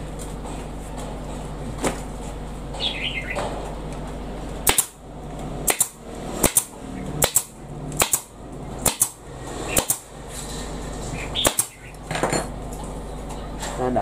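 A staple gun drives staples into a motorcycle seat cover, firing about nine sharp, loud snaps in an uneven rhythm after a stretch of quieter handling noise.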